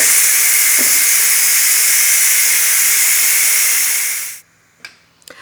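A Ninja Foodi pressure cooker does an immediate steam release, a loud, close, continuous hiss that cuts off abruptly, followed by a couple of faint clicks.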